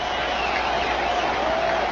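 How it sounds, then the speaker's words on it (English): A big crowd on its feet roaring at Shea Stadium during a 1999 NLCS baseball game after a long hit, a dense, steady wall of cheering at loud volume with no break. "The big crowd on their feet here at Shea Stadium. Listen to the volume of the crowd."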